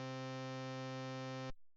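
A low, steady synthesized tone holds evenly for about one and a half seconds, then stops abruptly, leaving near silence. It plays alone, without voices.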